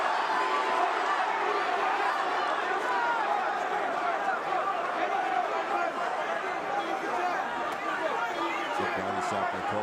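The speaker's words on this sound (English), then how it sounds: "And those two punches got the crowd alive." An arena crowd at a professional boxing match keeps up a dense, steady roar of chatter and cheering for ten seconds, with no clear single voice standing out.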